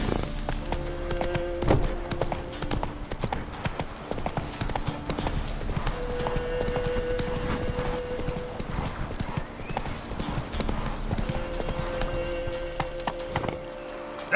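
Roach, the horse in The Witcher 3, gallops with rapid rhythmic hoofbeats on hard ground, the thudding clip-clop continuous and close over a sustained tonal backdrop.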